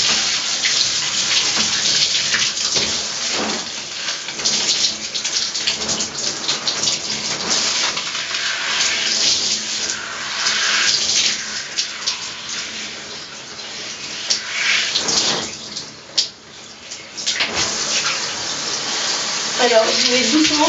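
Water runs steadily from a tap while tea is rinsed out of hair, a continuous hissing splash that varies slightly in strength as it falls.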